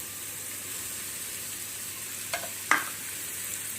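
Onions and chillies sautéing in a pan for squid gravy as tomato goes in, a soft, steady sizzle broken by two brief scraping clatters of the spoon.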